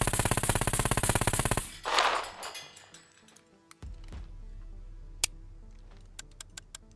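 A rifle in the video game SCUM rattles off a fast, loud burst of automatic fire, then falls quiet. Metallic clinks and dry clicks follow, scattered and sparse.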